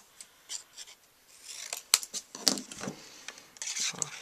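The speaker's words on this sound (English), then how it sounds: "Probably gonna have to just trim a little bit in between there to make it work." Scissors snipping and trimming paper for a fun-fold card, a run of quiet, crisp cuts and rustles at close range with uneven rhythm.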